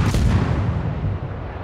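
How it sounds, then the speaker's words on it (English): Naval gunfire from a Pan-European tier-3 destroyer in World of Warships, a heavy booming salvo with a low rumbling tail that fades out. "3 rounds downrange."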